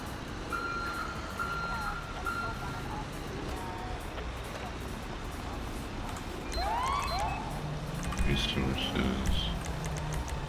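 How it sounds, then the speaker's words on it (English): A big truck's reversing beeper in GTA V sounds in short repeated tones at moderate level amid game ambience and engine rumble, with other game noises layered over it. "It's a great big ass truck backing up"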